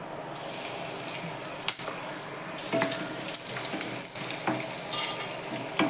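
Garlic and whole spices (cumin, mustard seed, cloves, black pepper, cinnamon, star anise) sizzling in hot oil, a steady close crackle with occasional stirring clinks and scrapes, no voices.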